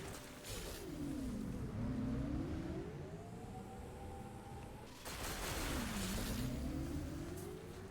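Motorcycle engine in the Metroid Prime 4 Beyond video game revs up and down in two long sweeping cycles, loud and steady with a brief dip between surges, no talk.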